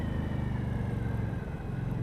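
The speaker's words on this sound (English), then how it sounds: "Engine braking on this is very nice." A 2018 Indian Scout Sixty motorcycle engine rumbles steadily at low revs, a close, continuous drone of the engine braking while riding.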